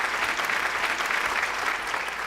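Steady, full applause from a studio audience on a reality game show, continuous dense clapping throughout with no talk over it.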